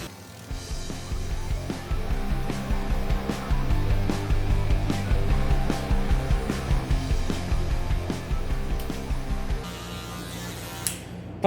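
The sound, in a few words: electric hair clipper with 1.5 guard cutting a fade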